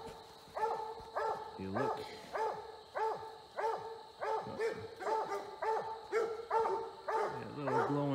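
Coon hunting dogs bark at a treed raccoon at night in a steady, evenly spaced series of loud, ringing barks, with a brief spoken remark near the start.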